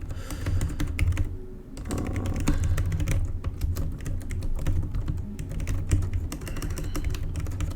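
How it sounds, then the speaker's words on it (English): Steady typing on a computer keyboard, rapid irregular clicks and key taps continuing throughout, close and moderately quiet, with no voices. "Maybe I'm just bad at typing today."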